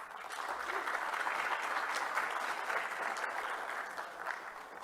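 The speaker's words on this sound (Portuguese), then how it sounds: "Recebam com uma salva de palmas." Audience at a Brazilian labour-justice panel applauding the moderator, a deputy prosecutor-general, with steady, moderately distant clapping held for several seconds without speech.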